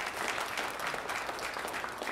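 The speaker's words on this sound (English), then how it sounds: "It's applause time." A congregation at a church service claps steadily for a couple of seconds, the dense applause heard at a moderate distance and fairly quiet overall.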